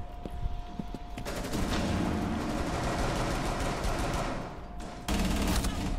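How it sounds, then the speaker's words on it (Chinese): An intense exchange of gunfire plays as dense, continuous bursts of automatic fire. It rolls on without pause, stops briefly near the end, then resumes at the same heavy level. "听到好浓烈嘅对枪声。"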